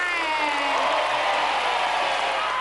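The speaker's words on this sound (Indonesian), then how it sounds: "tepuk tangan untuk Mbak Yuli" Studio audience on an Indonesian Family 100 game show applauding steadily, a dense continuous wash of clapping and crowd noise lasting throughout.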